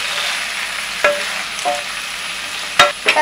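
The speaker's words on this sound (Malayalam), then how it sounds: "സോയ ഇനി നമുക്ക് നല്ലോണം കളർ മാറണ വരെ ഫ്രൈ ചെയ്തെടുക്കണം കേട്ടോ" Soya chunks fry in a pan and crackle in a steady sizzle, broken by a few sharp scrapes and clinks as they are stirred. There is no talking.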